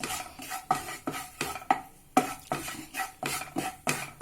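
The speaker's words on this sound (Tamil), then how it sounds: "பச்சை வாசம் போகிற வரைக்கும் இப்படி நல்லா வறுக்கணும். கோதுமை மாவு நல்லா வறுத்து எடுக்கணும்." Wheat flour is stirred and roasted in a pan for Asoka halwa. A ladle scrapes the pan in a steady rhythm of sharp strokes roughly twice a second, with a light sizzle between them.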